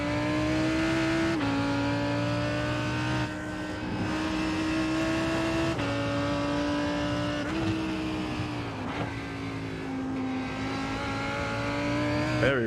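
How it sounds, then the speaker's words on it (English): In an IMSA race at Road Atlanta in a racing video game, a race car engine drones steadily from inside the cockpit. Its pitch climbs and drops with each gear shift while a faster class car comes up and passes. "There's a faster class car approaching."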